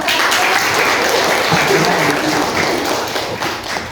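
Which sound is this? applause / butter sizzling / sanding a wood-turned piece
applause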